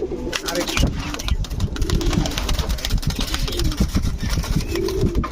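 Pigeons at a seller's loft of Budapest, Shaharanpuri, racer and Giribaz breeds give low coos buried in loud, busy background clatter and rustling, close and fairly continuous with sharp clicks throughout.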